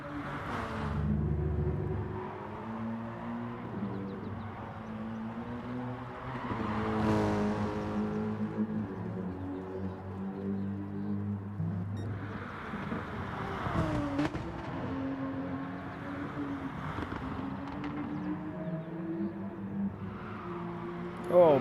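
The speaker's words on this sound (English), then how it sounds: "That Porsche sounding very good." A Porsche race car at Circuit de Spa-Francorchamps in a racing video game, its engine revving and shifting through gears with rising and falling tones, loud and close, with a brief tire squeal and faint commentary underneath.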